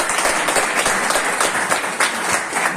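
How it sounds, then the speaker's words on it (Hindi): Loud, dense applause fills a meeting hall for a speaker, many hands clapping steadily and close up for the whole stretch, with no speech over it. "एक बार जोरदार ताली"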